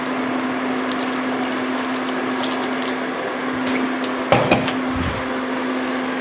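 Pork intestines are rubbed with salt and water by hand, giving wet squelching and sloshing sounds over a steady electrical hum, with a louder burst of handling near the end.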